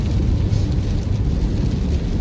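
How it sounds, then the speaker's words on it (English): Rain drums steadily on a car as it drives along, a dense even hiss and patter over low road rumble, with no voices. "We're just riding in the rain still."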